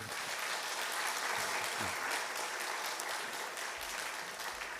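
Congregation applause right after a baptism during a Sunday service at a Presbyterian church, dense and loud clapping filling the whole stretch without letting up.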